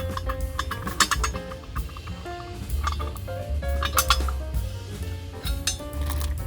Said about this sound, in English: Cast iron waffle pan.